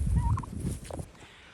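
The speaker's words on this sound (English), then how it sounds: "I'm so tired of these turkeys" Wild turkeys gobbling outdoors, a quick warbling gobble over low wind rumble, fairly near and moderately loud.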